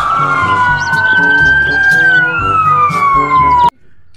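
A toy police patrol car siren plays loudly and close, a wailing electronic tone that rises and falls over a beeping toy melody, then cuts off abruptly.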